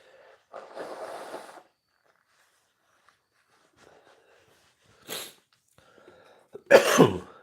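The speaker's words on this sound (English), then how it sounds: "going to have to blow my nose here" A few separate nose blows, a longer snuffling one first, then two short sharp blasts after a quiet pause, close to the microphone.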